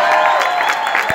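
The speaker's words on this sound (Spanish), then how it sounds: "un aplauso." A theater audience at the closing of the show Siddharta gives a short, dense burst of clapping and crowd noise, loud and close.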